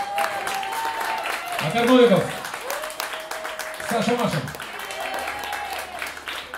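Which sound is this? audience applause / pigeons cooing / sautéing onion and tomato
audience applause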